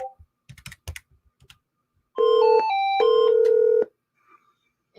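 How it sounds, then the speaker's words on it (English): Two-tone telephone keypad dialing beeps sound as a number is dialed on a desk phone to call a second phone, a run of steady close tones after brief muffled handling noise. "so I'm going to dial my other phone."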